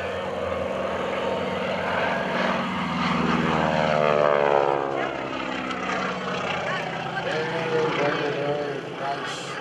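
A Bull Stearman biplane's radial engine drones loud and steady through airshow aerobatics, its tone sweeping and shifting with Doppler-like swells as the plane climbs and rolls overhead, with a commentator talking over the PA throughout.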